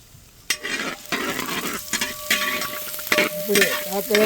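Finely chopped onions and curry leaves sauté in a pan, a close crackling sizzle punctuated by repeated sharp scrapes and clanks of stirring.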